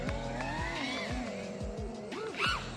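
FPV freestyle drone motors with throttle applied slowly, a whining multi-tone buzz that rises and wavers in pitch, repeatedly surging and easing, close and fairly loud.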